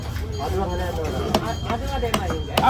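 Knife chopping through fish at Kasimedu fish market, Chennai, with sharp thuds landing irregularly under a busy mix of talking voices and market noise.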